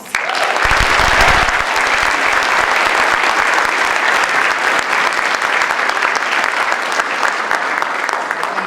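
An audience at an opening session at Portland State gives a big, sustained round of applause to welcome the city's mayor, loud and even throughout with no speech over it.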